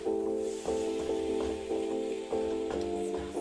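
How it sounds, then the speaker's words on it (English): Zucchini, carrots and onions sautéing in a pan, a steady close sizzle broken by periodic stirring scrapes at roughly half-second intervals, alongside a sustained tonal hum. "I'm going to finish sauteing the vegetables"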